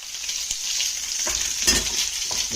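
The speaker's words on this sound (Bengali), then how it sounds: "এদিকে ডিমটা আমি ছেড়ে দেবো, তেলটা গরম হয়ে গেছে" Duck eggs dropped into hot oil set off a loud, continuous sizzle close by, with a few soft clunks and a burst of spattering midway; no one speaks.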